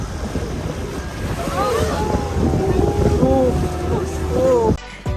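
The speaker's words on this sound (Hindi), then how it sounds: "बोट नीचे जा रही है पानी से।" A boat crosses choppy sea from Port Blair toward North Bay Island in the Andaman Islands, with steady rushing water and wind buffeting the microphone and faint voices underneath, before the noise cuts off abruptly near the end.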